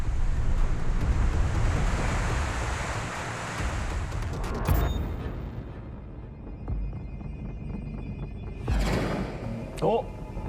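High sea waves crash and churn along the Jeju coast in a continuous loud roar with wind buffeting the microphone, surges swelling and breaking repeatedly close by.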